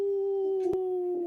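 A voice imitates a wolf howl, holding one steady, drawn-out tone for just over a second, alone and moderately loud in an indoor studio panel setting.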